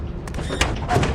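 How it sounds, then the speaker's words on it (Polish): Door opening in a video game, a short muffled sliding thud with a couple of soft knocks, close and moderately loud, alone. "Otworzyłaś drzwi?"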